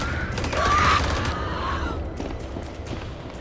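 Gunfire in a video game rings out as a loud burst of rapid shots near the start, trailing into scattered fainter pops and a steady rumbling background.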